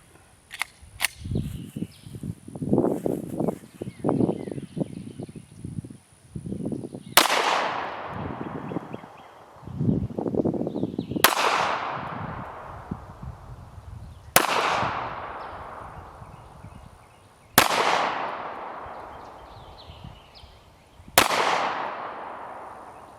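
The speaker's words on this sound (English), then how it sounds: "I just fired the Glock from 7 feet to capture those velocities" A Glock 19X pistol firing 9mm rounds from seven feet during a velocity test: five sharp, loud reports spaced a few seconds apart, each ringing out and decaying. Softer handling clatter comes before the shots.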